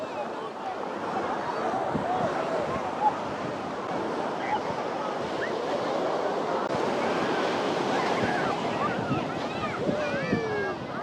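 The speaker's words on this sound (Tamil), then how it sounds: "தண்ணி, கடல் அலை." Sea waves wash onto a Sri Lankan beach in the late afternoon, a steady close surf roar mixed with wind buffeting the microphone, with faint distant activity in the background.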